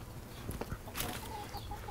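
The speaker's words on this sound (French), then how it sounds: "Ça, c'est mes poules pondeuses." Laying hens clucking on a small urban farm, a few soft, scattered clucks and short calls close by, with no talking.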